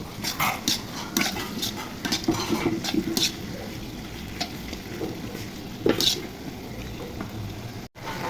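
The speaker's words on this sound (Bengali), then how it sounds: "গাজরটা একটু ভেজে নিব।" Steady sizzling of carrots frying in a hot pan, broken by repeated scraping and clatter as they are stirred, close by with no talking.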